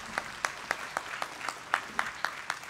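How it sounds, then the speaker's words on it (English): An audience at a national Yom HaShoah commemoration ceremony applauds, with steady crowd clapping carrying regular louder claps roughly every quarter second throughout. "Please give them all a well-deserved round of applause."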